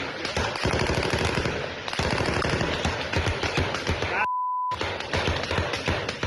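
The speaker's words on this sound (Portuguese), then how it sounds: "62 segundos de uma troca ininterrupta de tiros." Civil police elite troops and traffickers exchange sustained automatic gunfire in a wooded area, dense rapid bursts of shots rattling almost without pause, broken briefly by a short beep tone.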